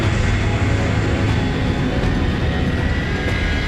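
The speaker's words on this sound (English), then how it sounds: "it was the first Vulcan starting" Avro Vulcan bomber jet engines starting up on a Falklands War airfield, a loud, continuous broadband roar with a steady low rumble, heard alone without voices.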